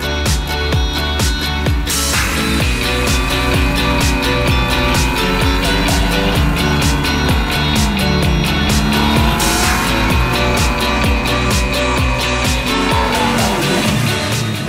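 Electric go-karts race around a tree-lined track while engine sounds played through the drivers' helmets imitate real motors, a loud continuous whine with tire squeals and rising and falling revs, no talking.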